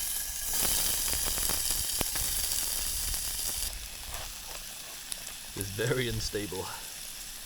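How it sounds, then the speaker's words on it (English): Noodles, vegetables and meat sizzle in a pan at a winter campsite, a loud steady frying hiss with a few stirring clatters, then a person talks briefly near the end. "today we're making stir fry"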